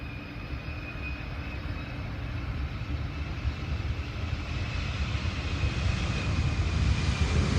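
A Boeing 747 airliner comes in to land at an airport, its engine roar a steady broadband rumble that swells slowly and grows louder over several seconds, heard alone without talk.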